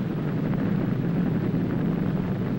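Nuclear explosion blast from a 1963 film on radioactive fallout: a continuous, heavy, low rumbling roar that holds steady and dense throughout, with no voices over it.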